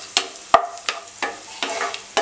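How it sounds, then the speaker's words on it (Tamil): Raisins fry in a pan with a soft background sizzle, broken by a series of sharp scraping and stirring strokes from a spatula at a quick, uneven rhythm, close and clear with no voices. "அப்படியே திராட்சையும் வந்து நம்ம வந்து அப்படியே வந்து ஃப்ரை பண்ணிக்கலாம்."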